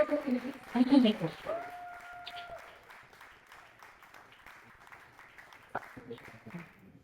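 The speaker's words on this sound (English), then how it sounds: "We're going to keep that applause going for our keynote speaker, Mr. Walter." An audience applauds a keynote speaker at a product conference, with moderate, steady clapping that runs under a voice at the start and slowly fades.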